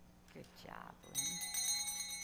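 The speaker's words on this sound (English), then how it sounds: "Let us begin with the lighting of our candle and the ringing of the bell." A bell rings to open a church worship service, its bright sustained tone starting right after a man's short spoken phrase and lingering to the end, fairly faint in a quiet room.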